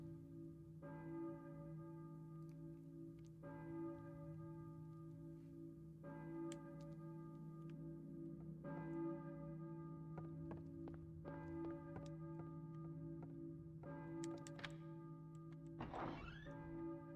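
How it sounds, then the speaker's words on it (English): Church bell tolling in a Silent Hill game scene, several spaced strikes ringing out with long humming decays over a low drone, faint and distant. "I hear a church bell, maybe?"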